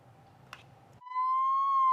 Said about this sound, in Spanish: Las sirenas de la Ambulancia del Deseo vuelven a sonar